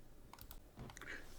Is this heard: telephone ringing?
no